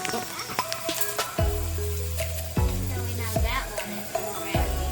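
Pancakes sizzle on a hot griddle during a Fourth of July brunch, a steady frying hiss broken by several scraping thumps as they are flipped, with a voice talking faintly over the cooking.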